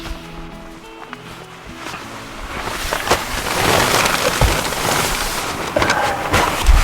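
Rain patters steadily on a Hilleberg Tarp 5 ultralight shelter pitched low outdoors, a dense close hiss that builds louder partway through, with no voices.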